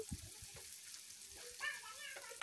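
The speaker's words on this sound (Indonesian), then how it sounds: "tumis ya sampai layu sampai buncis dan jamur kupingnya hampir matang" Carrots, scallion whites and wood ear mushrooms sautéing in a pan, a faint, steady sizzle with light scraping and stirring clatter, fairly quiet and distant.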